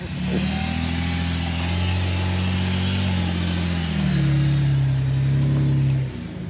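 A vehicle's engine revs hard and holds strained pitches while pulling another vehicle up a slope in snow. The roar is loud and close and shifts in tone before dropping off near the end.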